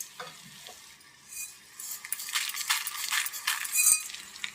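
Coriander seeds dry-roasting in a pan while being stirred, a soft rattling scrape and light sizzle that swells and fades, with faint clinks of a utensil against the pan and no talking.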